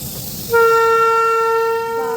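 A loud, steady Indian Railways train horn blares for about a second and a half over rumbling rail noise as the train passes.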